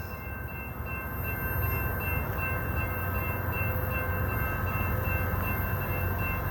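CSX coal train approaching through Mount Airy, a low steady rumble building gradually with faint horn-like tones, heard from trackside without talk.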